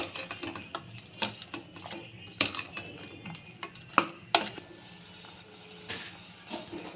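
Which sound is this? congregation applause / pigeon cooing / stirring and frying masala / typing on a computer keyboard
stirring and frying masala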